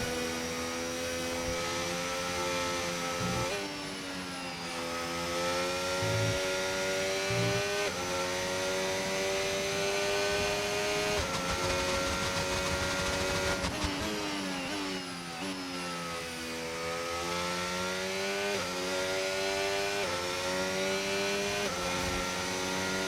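Formula 1 race car engine with a fresh power unit in F1 25 at Jeddah, a loud high-pitched whine rising through gears with sharp shifts and repeated accelerations, close and continuous.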